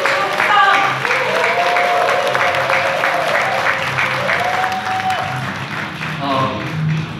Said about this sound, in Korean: 다시 한번 윤종필로님께 의정 활동을 더욱 열심히 하라고 경례의 박수 크게 부탁드립니다